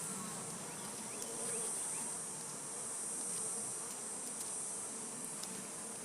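Honey bees buzz around an open hive during honey harvesting, a dense, continuous hum with individual bees whining close by.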